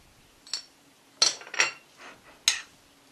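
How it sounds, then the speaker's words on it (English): A spoon clinks against a bowl in a few light, separate taps while sliced egg is gently folded into a fish pie filling; quiet and close, with no talking. "we're now going to add the sliced egg. So we just gently mix that in"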